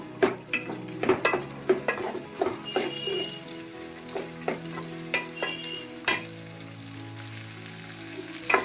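Vegetables for upma are stirred in a frying pan, with a constant sizzle under frequent sharp clicks and scrapes of the spoon against the metal, close and fairly loud.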